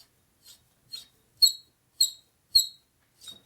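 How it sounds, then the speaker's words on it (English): Harley Sportster 650 single engine part being turned during a rebuild, squeaking six times in a steady rhythm, each short high squeal close and distinct against near silence. "Squeak, squeak, squeak. It doesn't like turning."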